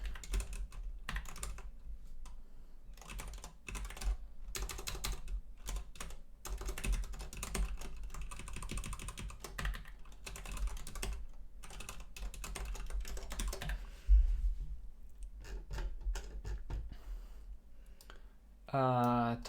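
Computer keyboard typing runs steadily for most of the stretch while a compiler is being written, with dense clicking keystrokes at close range and a brief sweeping electronic tone near the end.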